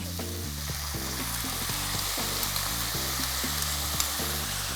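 Prawns for Chiu Chow chilli prawns, with ginger and garlic, stir-fry in a hot pan, giving a continuous soft sizzle under a steady background hum, with no talking.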